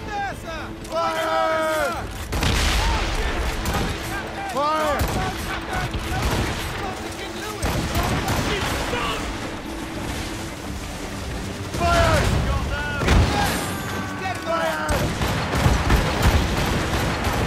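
Ship cannons in Assassin's Creed Rogue firing on enemy towers in a naval battle, heavy booming volleys rolling out in bursts over a dense, loud mix of battle noise, with shouted commands heard over the gunfire.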